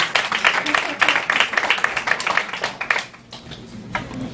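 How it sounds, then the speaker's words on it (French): Dense clapping from a crowd at a poetry slam in a bar in Montreal fills most of the clip, then fades out near the end. "Fred Lemay, mesdames et messieurs, une bonne main d'applaudissements."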